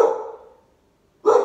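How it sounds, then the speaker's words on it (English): A guard dog barks loudly and close by, two sharp barks separated by a short silence, with no talking. "Sorry, my dog. Being a guard dog."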